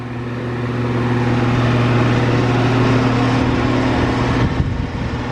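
A rattly 2016/17 Rheem Classic central air conditioner runs outdoors with a steady, humming drone and a buzzy rattle. The tone holds firm, then shifts and drops near the end.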